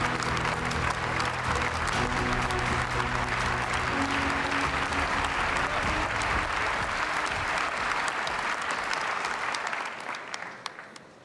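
Sustained, dense audience applause at a European People's Party congress in Valencia greets the President of the European Commission, holding steady and loud before thinning to a few scattered claps at the end.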